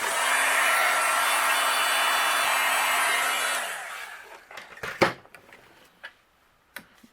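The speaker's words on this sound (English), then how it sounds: "and then we'll use our heat gun and melt them." A heat gun blows a steady whirring roar while melting white embossing powder on stamped cardstock, then switches off and spins down, followed by a few light taps and clicks.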